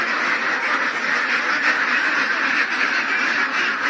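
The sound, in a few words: ducks quacking at renovated duck house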